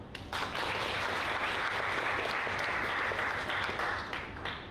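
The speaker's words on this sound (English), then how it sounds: "Let's give her a round of applause." Audience applause at an awards livestream ceremony, a dense, steady wash of clapping from a crowd that holds at an even level for several seconds before tapering slightly at the end.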